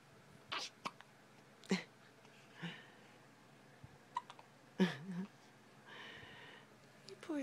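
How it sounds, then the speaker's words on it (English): A week-old newborn hiccups repeatedly, several short soft sharp catches spaced irregularly a second or so apart, quiet and close with faint breathing between them. "My poor boo-boo got the hiccups."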